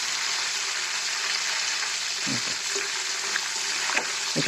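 Steady hot-oil sizzling and crackling as raw banana slices fry into chips, loud and close, with a few soft pops near the end.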